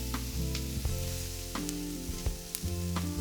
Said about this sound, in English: And we'll give it a good stir.